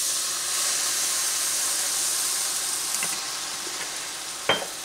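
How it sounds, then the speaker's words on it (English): A rice vinegar and sugar mixture is stirred in a pan under a steady, close hiss, with a few light utensil clicks and a sharp scrape near the end, and no talking. "Mix them up until the sugar has been dissolved."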